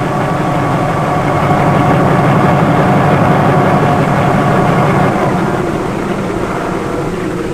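A helicopter's engine and whirling rotor make a loud, continuous low drone with a faint rhythmic pulse, steady throughout before easing slightly toward the end.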